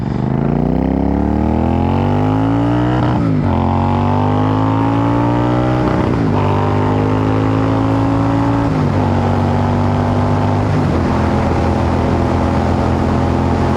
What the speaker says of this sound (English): There's just enough torque to pull away with ease on these bikes